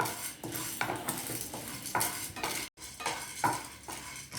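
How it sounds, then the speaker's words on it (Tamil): Chana dal roasting in a pan with just a couple of drops of oil, stirred in quick rhythmic scraping strokes about twice a second, close up, with a light sizzle and a brief pause partway. "கடலைப்பருப்பை வறுத்துக்கோங்க"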